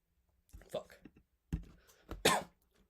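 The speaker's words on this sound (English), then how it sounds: "So, sorry, I have a cough." A person coughs indoors, giving several sharp, close bursts with short pauses between them and the loudest cough near the end.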